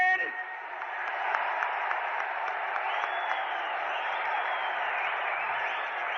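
A large crowd at a political rally claps continuously, a dense, sustained patter of applause with cheering voices mixed in, steady and fairly loud from start to finish.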